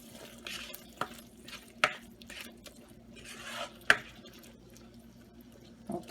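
Okra masala gravy is stirred in a pan, giving soft scraping swishes and a few sharp clinks of the spoon against the metal, with quiet cooking noise underneath and no talking.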